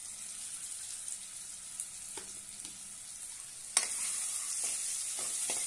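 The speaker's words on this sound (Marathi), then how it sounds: "छानपैकी तेलामध्ये फ्राय करून घेऊया।" Spiced mixture with turmeric, garam masala and red chilli frying in oil for jowar-flour varanphal, a soft steady sizzle with a few light scrapes of stirring and a sharper clink midway.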